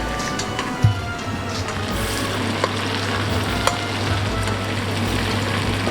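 Meatballs fry in a pan with a dense, steady sizzle close by, broken by a few clinks and knocks as they are turned.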